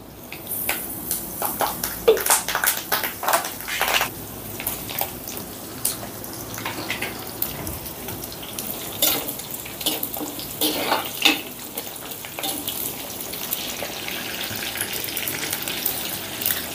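Mustard seeds, cumin and curry leaves hit hot oil, crackling and spitting in sharp, irregular pops over a steady sizzle, fairly close.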